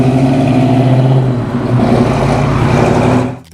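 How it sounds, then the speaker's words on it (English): A 1970 Dodge Challenger R/T with a Hemi V8 revs loudly up close, its deep, rumbling engine note holding steady for about three seconds before cutting off abruptly. "Number 3, 1970 Dodge Challenger"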